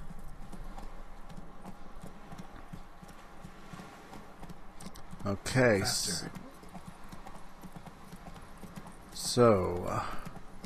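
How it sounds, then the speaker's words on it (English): In The Witcher 3 video game, a horse's hooves clip-clop steadily in the background while someone talks, with two louder, whinny-like bursts standing out over the rhythm. "Such a lazy horse."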